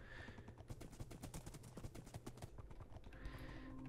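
Horse hooves clip-clop in a quick, steady rhythm in an animated Minecraft-style scene. The sound is faint and mid-distance, with a brief whinny-like tone near the start and again at the end.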